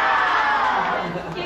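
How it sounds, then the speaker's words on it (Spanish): A crowd cheers and shouts loudly and continuously, a dense wash of voices with clapping mixed in. "¡Un aplauso para la niña!"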